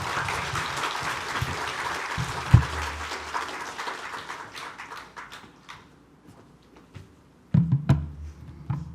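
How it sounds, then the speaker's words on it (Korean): A church congregation gathered for an early-morning special prayer service claps to welcome the pastor, a steady moderate patter of many hands that thins out and fades, with a few scattered taps and brief talk near the end. "귀한 말씀 전하실 수 있도록 나오실 때 큰 박수로 환영하도록 하겠습니다"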